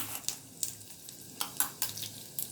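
Mustard seeds and urad dal tempering in hot oil, a faint sizzle broken by sharp scattered pops and crackles, several spaced bursts, no speech.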